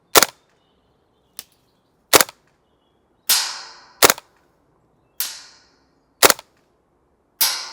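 A WELLPRO WE09GM gas blowback airsoft rifle fires outdoors on a cool day in loud, sharp cracking shots and short bursts, each followed by brief silence.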